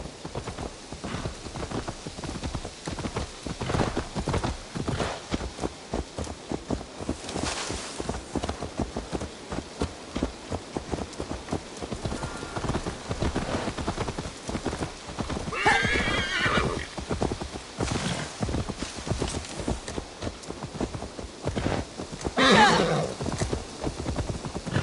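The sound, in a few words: horse hooves and whinny in Assassin's Creed Valhalla video game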